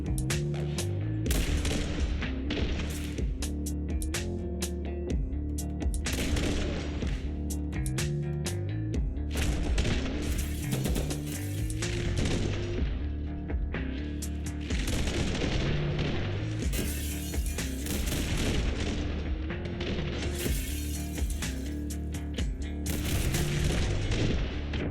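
Gunfire from the top-down shooter The Hong Kong Massacre, with rapid, dense volleys of shots and booming blasts repeating almost nonstop over a sustained tonal backing track, loud and close throughout.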